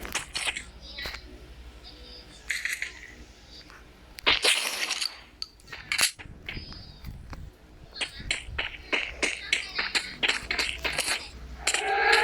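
Gunfire in the Free Fire mobile battle royale game: a steady stream of sharp, cracking shots in irregular bursts across the whole stretch, mixed with a few heavier impacts and under occasional speech.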